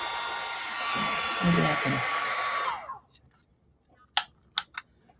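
A heat gun used for embossing whirs loudly and steadily for about three seconds and then switches off, followed by a few faint clicks and a brief spoken phrase.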